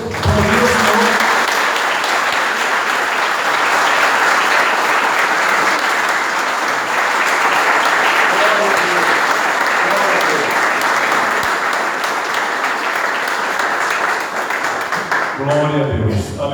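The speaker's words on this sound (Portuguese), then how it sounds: "vamos bater as nossas palmas para Deus" A church congregation clapping their hands together during a family worship service, a loud continuous wash of applause lasting over fifteen seconds, with a voice heard faintly at the start and end.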